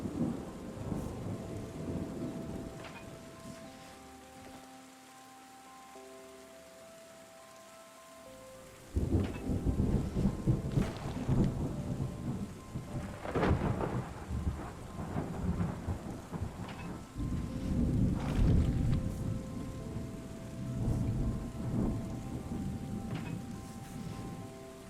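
A thunderstorm in the Terra Nil video game, with steady rain pattering and several deep thunder rumbles, quiet at first and then swelling into heavier rolling peals, plus soft tonal game music underneath.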